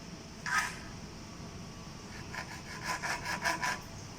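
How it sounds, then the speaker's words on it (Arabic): Hand saw blade cutting through a broken LED candle, giving a quiet scrape followed by a run of short, rhythmic rasping strokes near the end, with no voices. "وراح نقصها بالمنشار. عندي هاي تيغة مال المنشار، خذها وأقص بيها."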